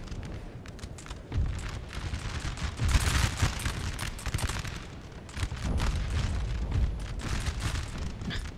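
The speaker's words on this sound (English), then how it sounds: "And my left wing are going to fire." An infantry line's volley fire in Napoleon Total War crackles as a dense stream of musket shots in two long bursts, loud and continuous with a short lull between them.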